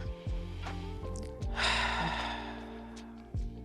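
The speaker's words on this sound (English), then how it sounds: "So really moving myself by slowing down and just taking a couple breaths." Slow, deliberate breaths taken during a mindfulness exercise, a few soft inhales and exhales heard close and alone, with a deeper audible breath in the middle.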